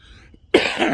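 A single loud, close cough bursts out after a moment of near silence, harsh and raspy, trailing off into breathy noise.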